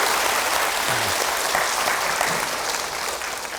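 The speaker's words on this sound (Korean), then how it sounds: "박수로 부탁드리겠습니다." Steady applause from a crowd at a cardinal's talk fills the whole stretch, dense and even, with a faint voice or two barely surfacing underneath.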